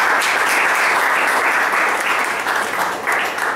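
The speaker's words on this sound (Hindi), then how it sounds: "जब ये आते हैं तालियों के साथ इनका स्वागत करेंगे." A congregation at a morning chapel service claps to welcome a preacher, producing dense, sustained applause that stays loud and fairly even before easing slightly at the end.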